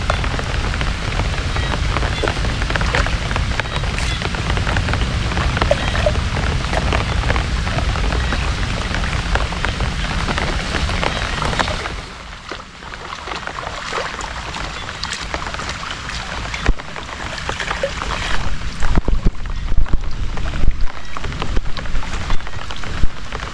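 Steady heavy rain pours down outdoors, dense and continuous, easing slightly partway through before resuming with scattered louder drops and splashes.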